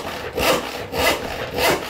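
A hand saw cuts through wood in three steady, evenly spaced strokes, each a loud rasping push rising and fading, close by with no talk.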